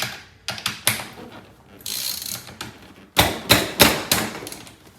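A ratchet wrench works a 14 mm seatbelt bolt loose inside an MR2 Spyder, giving close bursts of quick clicking with short pauses between strokes and no voices.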